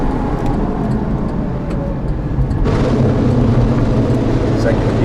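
A 2002 Pontiac Firebird Trans Am with 30,000 miles roars loudly as it accelerates, its engine note jumping as it shifts into a long second gear, with a voice speaking over it.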